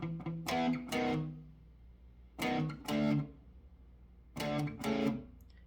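Distorted electric guitar plays a riff in power chords, three short bursts of paired chord stabs separated by pauses, clear and alone.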